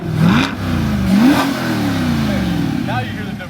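A Chevrolet C8 Corvette's engine revs with its exhaust valves closed, giving two quick rising blips followed by a steadier idle drone, close and fairly loud, as someone talks over it.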